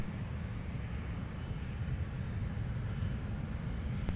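An aircraft takes off from runway 17 at Minneapolis–St. Paul International Airport, heard as a steady, distant low engine roar that holds evenly at moderate level.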